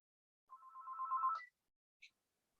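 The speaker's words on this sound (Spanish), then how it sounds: "alguien suena el teléfono" A telephone rings in a quiet room, one sustained electronic ring lasting about a second followed by a short second chirp, fairly faint with no talking.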